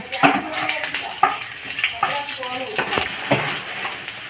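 Dried red chillies drop into hot oil in a home kitchen while masala dosa is made, giving a steady crackling sizzle with scattered sharp pops and utensil clinks, and a voice speaks faintly in the background.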